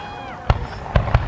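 Fourth of July fireworks at Perry Park, Colorado, heard as three sharp booms in quick succession, while an excited voice carries on in the background.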